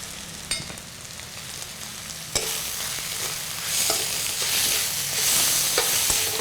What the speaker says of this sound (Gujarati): હવે શાકને બરાબર હલાવી